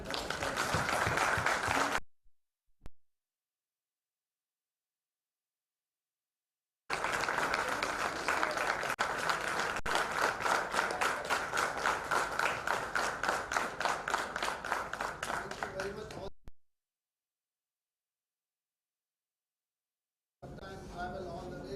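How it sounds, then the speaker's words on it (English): An audience at a corporate partners' meet gives a standing ovation, bursts of dense, continuous clapping separated by stretches of dead silence, the longest round rolling on for about ten seconds before cutting off abruptly. "I want you to give a big round of applause and standing ovation."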